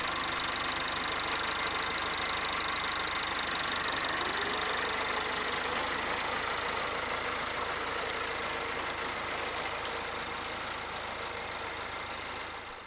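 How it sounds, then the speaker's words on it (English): A tractor-driven unwinding machine unrolls irrigation hose in a field. It gives a steady, fairly loud mechanical engine drone with a constant rumble for about thirteen seconds and no voices. "The unwinding machine exactly matches the tractor speed to allow for a consistent and trouble-free unrolling."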